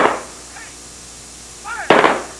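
Rifle volley at a 1998 World War II reunion ceremony at George Field, a former military airfield in Illinois: a sharp crack opens the clip, then a commanding voice, and another loud report near the end, outdoors and fairly close.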